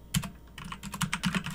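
Computer keyboard typing of network configuration commands: a quick, irregular run of close, crisp keystrokes, alone and fairly quiet.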